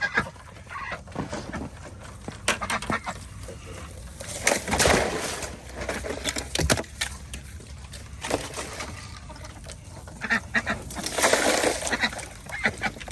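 Ducks quack and honk close by in a rural Ozark Mountains yard, with repeated loud bursts of calls over a noisy outdoor background and no talking.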